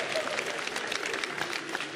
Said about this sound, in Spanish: Qué chingón que aplaudan